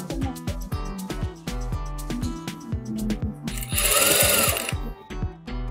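A domestic sewing machine stitches a Patiala salwar in rapid rhythmic bursts of mechanical clatter, pausing and restarting, with a brief louder whirring stretch midway; close and fairly loud.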